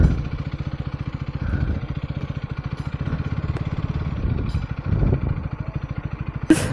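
A brand-new motorcycle straight from the showroom runs with a steady, rapid engine pulse close by, its throttle rising and easing in waves, ending in a brief sharp burst.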